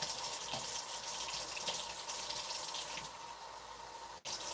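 Water gushes and pours steadily onto dry coco coir in a container for planting herbs, a broad close hiss that softens slightly near the end before a brief cut, with no talking.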